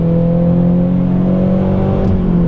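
A 2013 Subaru BRZ Premium with a six-speed manual holds a steady, droning engine note while accelerating, heard from inside the cabin. The tone is sustained and even for the whole moment, with no gear change or break in it.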